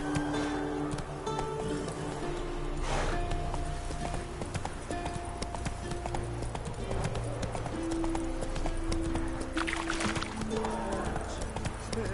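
Roach the horse gallops in The Witcher 3, with rapid, steady hoofbeats running the whole way through, layered under game music and an occasional voice.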